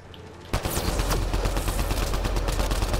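Rapid automatic gunfire in the shooter game Mass Effect Andromeda breaks in sharply after a quiet moment, then keeps up a dense, loud, continuous volley with no talk.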